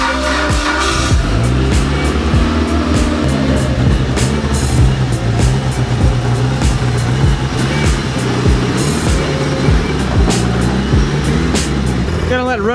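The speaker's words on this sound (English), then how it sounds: "Gonna let it run for a little while because it's been like almost 6 weeks since I started it." A Jeep JK engine idles after sitting unstarted for about six weeks, a loud, close, steady rumble with no break throughout, and a low voice speaks under it in places.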